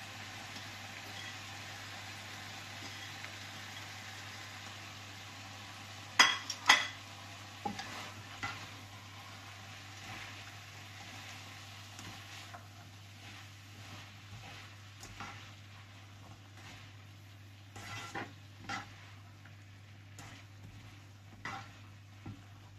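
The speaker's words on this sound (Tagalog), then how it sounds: "Lagay na po natin itong ating repolyo para maluto na rin po siya." Cabbage tossed into a pan and stir-fried for pansit with chicken, a steady sizzle running throughout, with bursts of clattering utensil scrapes and stirring knocks over a low hum.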